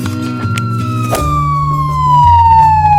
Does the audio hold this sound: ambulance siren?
yes